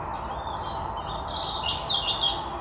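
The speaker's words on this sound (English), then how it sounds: "Take time to listen to the birds." Birds sing outdoors in nature, a steady layer of high chirps and warbling tweets that carries on without a break at moderate loudness, with no voices over it.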